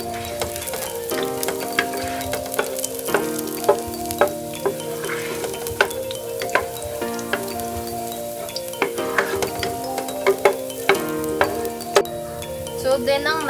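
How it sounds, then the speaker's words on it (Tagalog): Ingredients for halang-halang, a Bisaya dish, sizzle steadily in a hot pan while being sautéed toward light brown, with a continuous close fry and regular scraping stirs. "Igisa natin siya hanggang sa mag light brown"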